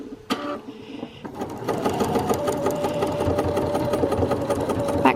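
Sewing machine stitching binding along a sleeve seam, a close, steady mechanical whir with rapid needle clatter, briefly paused near the start before running continuously.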